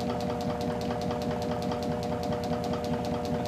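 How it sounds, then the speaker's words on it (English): A Perepiteia generator runs steadily and slows under back EMF, giving a continuous mechanical drone with a rapid, even pulsing that keeps on without pause, close and fairly loud, with no voices. "As we can see, the generator back EMF is causing the system to slow down."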